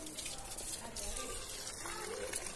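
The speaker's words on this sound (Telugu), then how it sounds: "చెట్లకు నీళ్ళు పోయడం," Water sprays onto summer garden plants in a continuous soft hissing gush, close by, with a voice speaking over it.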